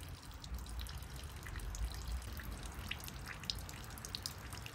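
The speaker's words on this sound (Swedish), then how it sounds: "Jag trodde inte att det skulle flöda på så bra genom det här filtret. Med gravitation bara." Water trickles and drips steadily through a gravity-fed water filter outdoors, a faint continuous patter of small drops over a soft background hiss.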